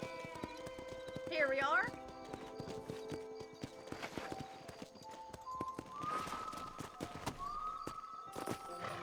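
Horse hooves clip-clop in Red Dead Redemption, a steady pattern mixed with a brief whinny and in-game music and voices.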